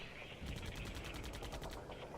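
Rapid automatic gunfire from militia in a jungle wargame set in Colombia in 1989, a steady burst of evenly spaced shots lasting over a second, faint and distant under low background noise.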